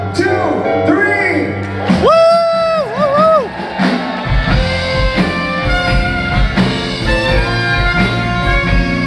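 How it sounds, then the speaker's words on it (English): A kissing-game show audience screaming and whooping for contestant number 3, loud shrill voices rising over music and a host's shouting, sustained for several seconds. "please scream as loud as you can for contestant number 3"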